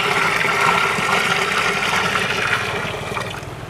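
Slaked lime solution pours into a 200-litre barrel in a steady, loud watery rush that keeps going for several seconds and eases slightly at the end, with no talking.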